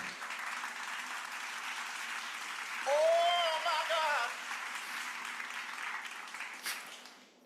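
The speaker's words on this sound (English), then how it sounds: "Let's give a clap for the last point." Audience members clap together at a talk, producing a soft, continuous patter of applause heard from a distance, swelling briefly with a shrill whistle-like tone midway before easing down.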